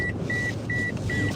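Four evenly spaced electronic chimes from a car's seatbelt warning ring over a low cabin rumble.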